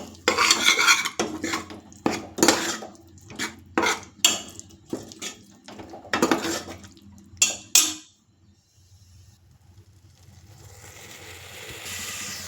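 A spoon clatters and scrapes repeatedly against a pan while coriander powder is stirred and fried for a bamboo shoot and chicken curry, loud rhythmic knocks that stop, leaving a faint sizzle.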